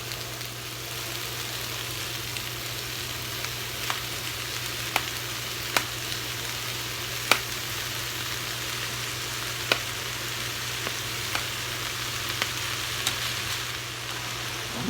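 Rice frying in a pan while making fried rice: a steady, moderate sizzle with faint crackles and a few sharp ticks scattered throughout, no voices over it.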